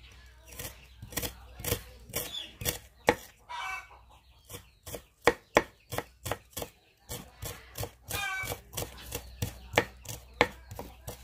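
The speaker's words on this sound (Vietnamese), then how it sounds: "Củ kiệu thì mình cũng đã xắt xong rồi đó các bạn." A knife chops Chinese scallion bulbs on a cutting board in quick, steady knocks, close and crisp, with short pauses between runs and a rooster or hens clucking faintly in the background.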